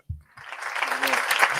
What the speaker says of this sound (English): Clap if you got a father.